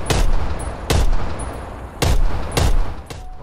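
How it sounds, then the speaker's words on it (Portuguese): Call of Duty gunfire fired through a PS5 DualSense controller's trigger: about five loud, sharp shots in irregular bursts, each a broadband crack with a short decaying tail, over steady game ambience. "só de encostar aqui, ela vai atirar"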